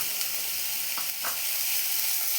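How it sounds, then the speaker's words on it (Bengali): Chopped onion and green chili fry in oil in a pan, giving a steady, bright sizzle with a few faint stirring scrapes, close and fairly quiet, no talk. "এটা একটু ভেজে নিতে হবে"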